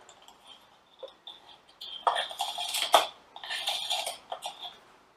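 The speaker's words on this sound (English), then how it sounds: "I'm going to put the retaining nut and plate onto this thing" Metal retaining nut and plate being fitted onto a Rolls-Royce Merlin MkXX reduction gearbox, with sparse light clinks at first, then a cluster of close, ringing metallic scrapes and clanks.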